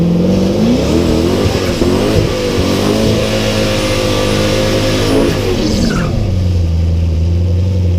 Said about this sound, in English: So you're holding the brakes, you give it gas, it comes up on the tire, it starts spinning